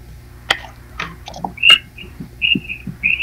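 Someone outdoors whistling birdlike notes, a few short high chirps spaced irregularly over faint clicks and low background noise during a live radio broadcast, with no speech.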